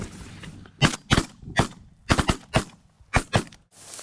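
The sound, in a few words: shotgun gunshots while hunting snow geese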